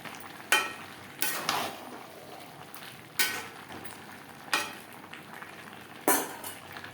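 Mixed vegetables stirred in a pan with ghee, garam masala powder and roasted spice powder for a Bengali vegetarian dish, heard as a steady sizzle broken by about six sharp scraping strokes of a spatula against the pan, with no talking.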